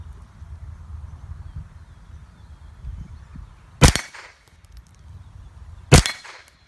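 Two sharp .22LR rifle shots ring out about two seconds apart, each striking a metal rabbit target with a crisp metallic crack. Faint outdoor rumble fills the gaps between them.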